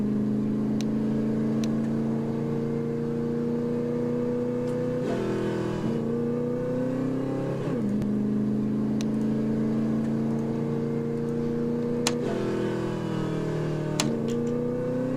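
Engine of a car in a video game, a steady droning hum that rises and dips with gear-like shifts and revs, with a few faint clicks, with no talking.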